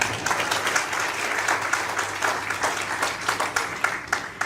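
An audience at a lecture claps together, a steady wash of applause with distinct hand claps running through the full few seconds, fairly close and loud with no voice over it.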